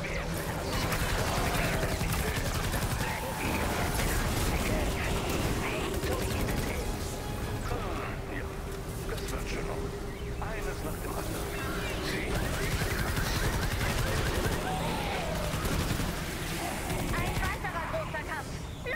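Gunfire during a mission to destroy camps in the video game Fortnite, dense bursts and shots layered over constant game noise and a steady hum, with voices talking across it.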